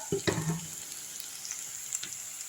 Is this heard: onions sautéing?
yes